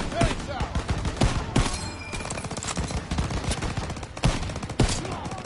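Anti-aircraft gun firing in the Call of Duty WWII campaign, loud repeated booming shots in an irregular rapid rhythm amid battle noise and other gunfire.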